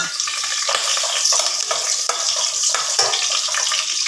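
Ginger is sautéed in oil to start chicken tinola, giving a loud, crackling sizzle with repeated stirring scrapes.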